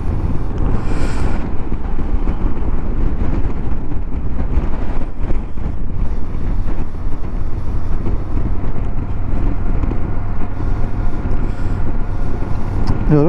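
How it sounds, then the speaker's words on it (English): A strong northerly crosswind buffets the microphone on Dartmoor during a V85TT motorcycle camping trip. It makes a loud, continuous roaring rumble with gusty surges and no break throughout. "It is really windy today, northerly wind, so it's a bit of a crosswind"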